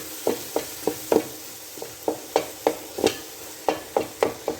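Grated carrot halwa is stirred and roasted in a pan, giving a steady series of scraping, sizzling spoon strokes about every third of a second, close and clear with no voices.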